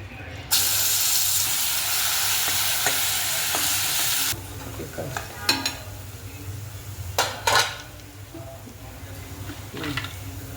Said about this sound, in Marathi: आता आपण हे तयार केलेलं वाटण ह्या तेलामध्ये घालणार आहोत.